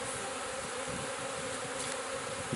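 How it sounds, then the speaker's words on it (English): A swarm of honey bees hums continuously around a hive frame during queen rearing, a thick, even buzzing close by, with no voices over it. "Okay, so these are the bees that"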